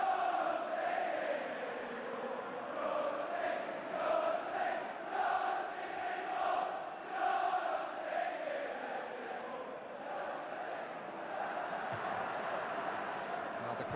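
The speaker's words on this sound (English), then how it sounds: "Now the crowd's voice, supporting the thoughts, I'm sure, of their manager, indeed of their players" A large stadium crowd at an Arsenal v Manchester United football match chants and sings steadily in the distance, a continuous rolling roar with rhythmic swells, no single voice standing out.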